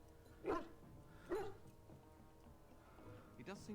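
A puppy in the fantasy role-playing game Dragon Age: Origins whimpers in a few short, plaintive bursts, one early, one a second later and one near the end, over a low ambient game background.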